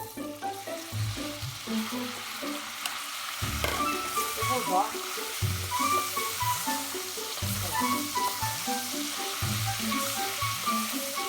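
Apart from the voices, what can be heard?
beef frying in butter and oil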